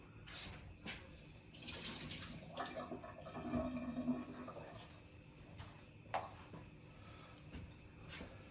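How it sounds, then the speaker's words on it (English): Water from boiled potatoes pours and splashes into a sink, faint and a little distant, trailing off into a few soft drips and clatters. "I'm going to drain my potatoes."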